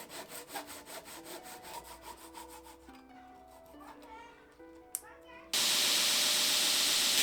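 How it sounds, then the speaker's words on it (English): Rhythmic rasping strokes shape the handle of a layered herringbone-pattern scouting knife, then a brief pause before a loud, steady grinder roar takes over, close and continuous. "mark where I want to grind, and then start to shape the handle"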